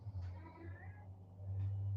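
A cat meows once or twice close by, a short drawn-out cry over a low steady hum, with faint background noise and no clear speech.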